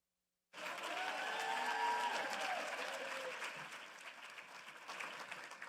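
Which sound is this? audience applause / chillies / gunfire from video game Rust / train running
audience applause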